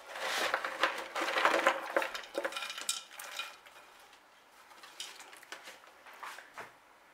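Loose orchid potting medium and debris rattle and crunch as they drop into a pot while an Angraecum sesquipedale is repotted, a dense rustling that is loud at first, then thins into softer, scattered clatters.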